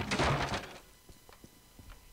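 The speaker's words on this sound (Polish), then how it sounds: "wyważamy drzwi jak policja" A door forced open in the video game Postal 2, one heavy thump and crash at the start, followed by a few faint knocks.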